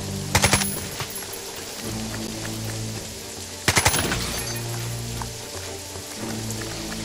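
Automatic gunfire in the Jagged Alliance 3 video game comes in two loud, rapid bursts a few seconds apart, with game ambience rumbling between them and no voices.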